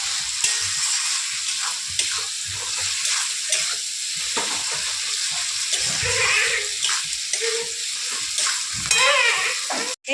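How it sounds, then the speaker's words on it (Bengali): A spoon stirs turmeric powder and salt into food in a pan, scraping and sizzling continuously at close range, with steady frying hiss throughout and no talking. "এবার ভালো করে সবগুলোকে একসাথে মিশিয়ে নিচ্ছে"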